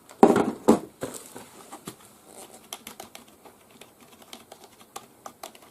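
Someone types on a Logitech K275 wireless keyboard, with two louder clacks at first and then a light, uneven patter of keystrokes at close range, and no talking.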